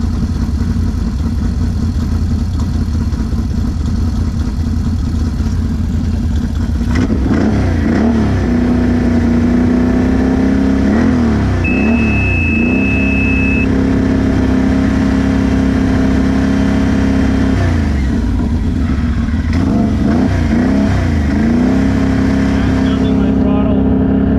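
An off-road UTV engine runs steadily and loud throughout, with its tone rising and falling through several revs and a held higher-pitched whine partway through.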